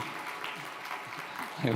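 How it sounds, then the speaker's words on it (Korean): A church congregation applauds a visiting missionary during a Sunday service. Steady, moderate clapping fills the hall, with a voice speaking over it near the end. "박수 한번 해드리겠습니다"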